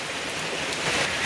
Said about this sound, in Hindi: बाप रे बहुत ज़्यादा बारिश हो गई।